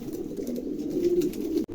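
A pair of large pigeons cooing softly and continuously at close range, a low throaty murmur that ends in a brief break near the close.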